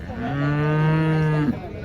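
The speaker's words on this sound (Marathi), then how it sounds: "परभणीच्या बाजारामध्ये काकांना देवणी जातीची मित्रांनो गाय आणली आहे" A Deoni breed cow at the Parbhani cow market gives a single loud, close moo with a steady low tone for about a second and a half before it breaks off.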